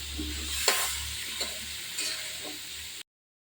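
Pointed gourd, ridge gourd and potato sauté with shrimp in a pan, a steady close sizzle broken by a few sharp spatula scrapes and stirs before the sound cuts off abruptly.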